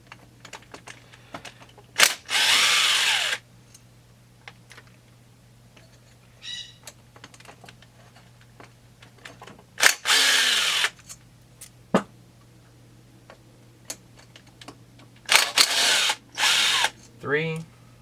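An impact driver backs out 4mm screws from the clamshell of an Echo CS-400 chainsaw, several short loud bursts of buzzing, rattling hammering separated by pauses with quiet handling clicks and a steady background hum.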